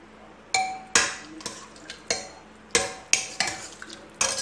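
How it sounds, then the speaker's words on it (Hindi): A spoon stirs matar aloo curry in a cooking pot, making a series of sharp metallic scrapes and clanks at a steady uneven rhythm, close and distinct with no speech. "अब इसको अच्छे से मिक्स करेंगे हम।"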